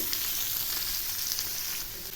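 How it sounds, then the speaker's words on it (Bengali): Bay leaves, finely chopped onion and tomato fry together in a pan for palak paneer, a dense, continuous sizzle that holds steady at moderate loudness and eases slightly at the end. "আর দিয়ে দিচ্ছি ঝুরি করা একটা বড় পেঁয়াজ আর একটা টমেটো কুচি। এখন এগুলি আমি খুব ভালো করে ভেজে নেব।"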